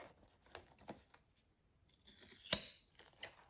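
Scissors snipping through paper while working on a Christmas craft project, a few sharp isolated cuts separated by quiet pauses, with one louder crisp snip near the end.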